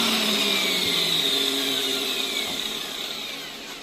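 Angle grinder running off a 1600W power inverter, a loud high-pitched whine with a sliding tone that slowly winds down in pitch and level, heard alone without talk.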